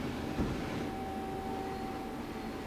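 On a Mighty Viper VT36CL-1500 CNC lathe, built new in 2010, the X-axis traverses with a continuous low machine drone and a faint steady tone, opening with one brief knock.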